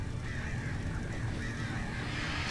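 Crows cawing in the video game Alan Wake Remastered, faint repeated harsh calls over a steady low ambient rumble, heard from a distance.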